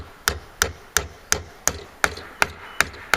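Steady hammer blows driving nails into a plywood door panel for a generator shed, nine sharp, evenly spaced impacts close up with no talk.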